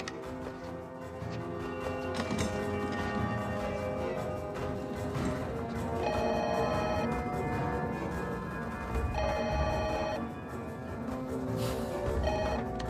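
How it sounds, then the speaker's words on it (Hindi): A telephone rings repeatedly in bursts over a busy, dramatic background of music and noise, fairly loud and continuous. "फोन उठाओ, उठाओ फोन, जल्दी करो।"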